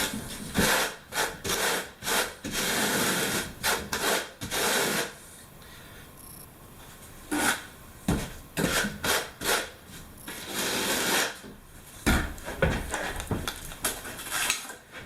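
A worn quarter-inch trowel presses and slides a tile through tile adhesive, producing loud, close, rhythmic rasping scrapes in bursts separated by short quiet pauses.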